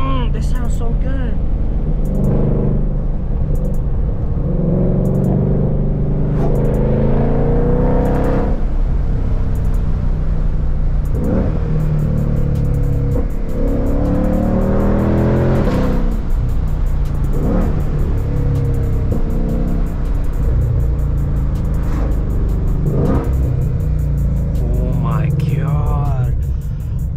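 A Shelby GT500 engine revs hard through repeated gear shifts from inside the car, with loud rising and falling sweeps and a constant low rumble, and voices talking over it.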